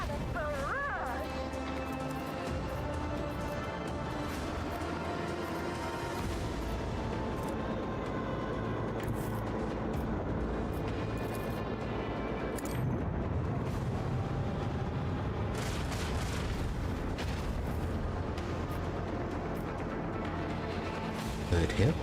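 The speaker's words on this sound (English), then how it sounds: "Macro cannon barrage." Macro cannon barrage in the Warhammer 40k: Rogue Trader video game, a sustained roar of heavy rumbling impacts and crashes running throughout, with talk over it.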